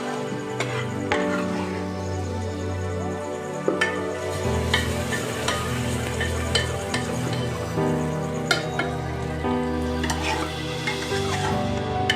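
Steady sizzling of mustard greens (sarson da saag) paste frying in a pan, with repeated stirring and scraping clinks throughout, close and fairly loud.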